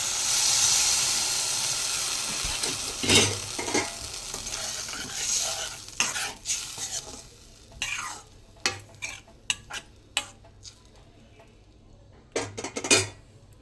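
Tamarind broth with small fish sizzles and bubbles in a pan as it is poured in and stirred, a steady close hiss first, then scattered utensil scrapes and clinks against the pan.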